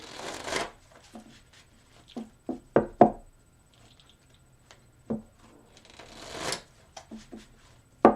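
Tarot cards are shuffled by hand in quick riffling bursts, separated by soft taps and knocks as the deck is squared, close and fairly quiet.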